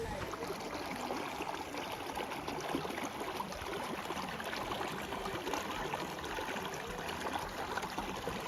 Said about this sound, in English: So it's flowing through the creek here.